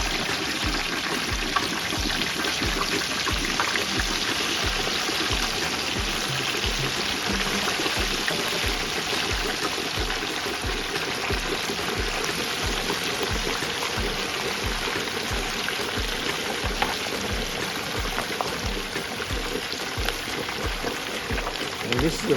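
A turkey lowered into a pot of hot oil for deep frying, moisture fizzing and bubbling off in a steady, dense crackle that runs throughout at moderate level.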